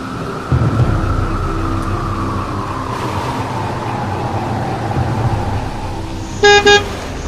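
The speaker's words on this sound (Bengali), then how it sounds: "উল্টো দিক থেকে একটা বাস আসছে।" Cartoon sound effect of a bus approaching through a rainstorm, with a steady rumble of rain and traffic noise and two short horn toots near the end, loud and near.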